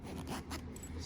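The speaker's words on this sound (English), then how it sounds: "So here I close the zipper all the way to the top." Zipper on a jacket being worked, giving a quiet, close scraping rasp of the teeth lasting about a second, with no voices.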